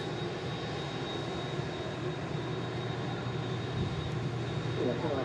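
An Emirates Airbus A380 taxis past the Runway Visitor Park at Manchester Airport. Its jet engines give a steady, loud, broad roar with a faint high whine, and the noise swells slightly toward the end.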